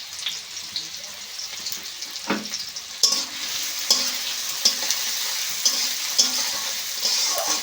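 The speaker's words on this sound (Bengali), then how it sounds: "পেঁয়াজটা একটু বেশ ভালো করে নেড়ে চেড়ে নেবো" Chopped onions, cut small, are stirred as they fry in a pan, with a steady close sizzle and repeated scraping knocks of the utensil in an irregular rhythm throughout. No one speaks.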